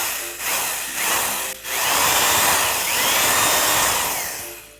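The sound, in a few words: power drill drilling into a watermelon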